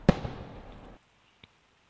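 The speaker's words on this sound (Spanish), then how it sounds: "se empiezan a escuchar un montón de explosiones así en el cielo" A sudden sharp blast bursts in the sky in the video game Piggy Book 2, followed by a rumbling decay that cuts off after about a second, then a small distant pop.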